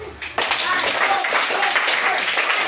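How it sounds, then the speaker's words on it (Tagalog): A class of students bursts into quick applause for themselves during a music lesson, dense close clapping that starts abruptly and carries on with a few voices mixed in. "Bigyan natin ang isang palakpak ang ating sarili."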